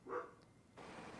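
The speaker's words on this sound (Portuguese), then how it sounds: "Você queria falar do cachorro latindo" A dog barks once or twice near the start, a short mid-pitched burst, followed by quieter background noise.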